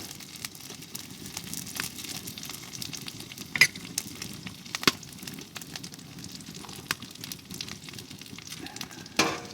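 Food sizzling and frying on a Pomoly T1 stove, a steady close crackle with occasional sharper pops and clinks, no talking.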